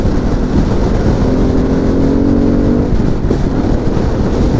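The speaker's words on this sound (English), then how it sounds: "I hope the mic picks up the exhaust, because oh yeah, it may not be a regular Harley engine, but god damn it, it sounds like a Harley engine" A Harley-Davidson Pan America engine drones loud and close while riding, its exhaust tone climbing steadily in pitch as the bike accelerates, all over constant wind rush.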